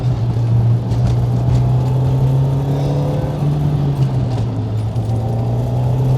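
Toyota AE86 with a 4A-GE engine and six-speed gearbox downshifting from third to second on a touge run, a steady in-cabin engine drone with pitch shifting slightly midway, road rumble throughout, no talk.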